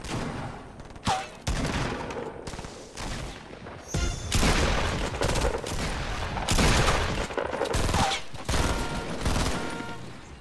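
Shotgun fire in Fortnite, loud blasts and rapid bursts of gunfire in a busy battle, with brief talk in between.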